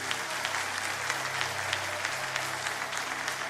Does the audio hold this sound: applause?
yes